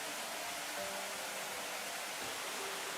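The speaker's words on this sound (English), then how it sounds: "Source of all the noise, River Cam." River Cam flowing water, a steady broad rushing of water, fairly faint and continuous, with no voices.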